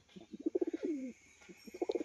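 Pigeons of a fancy show breed, kept as a breeding pair, coo close by in short throaty bursts, a rhythmic run of pulses, then a brief pause and another cooing phrase.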